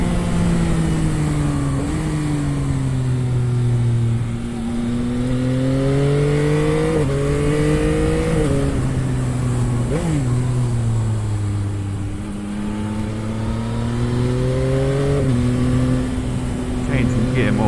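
A Yamaha XSR 900 motorcycle engine rises and falls through repeated accelerations with distinct gear changes, a loud continuous exhaust note with no talk.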